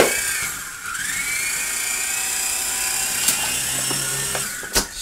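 A cheap toy RC helicopter whines with a steady high rotor tone that bends in pitch, followed by a couple of sharp clatters as it crashes down into a cardboard box.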